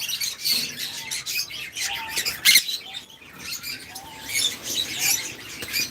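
Pet birds in an aviary housing split ino violet opaline pairs, calling in overlapping squawks and sharp chirps, fairly close and busy, with one louder burst partway through.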